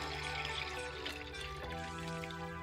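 Two cups of water poured into a glass, a soft continuous trickle at close range, faint and uninterrupted, with no voices.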